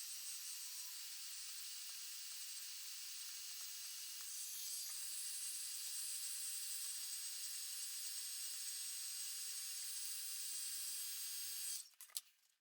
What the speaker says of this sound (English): grab a heat gun and heat up the outside of your glasses